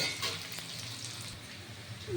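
Potatoes fry in a pan, a soft, steady sizzle with faint crackle throughout, fairly quiet and close, with no talking.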